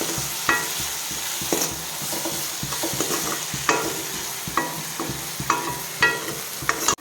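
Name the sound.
stirring dried shewali leaves in a pan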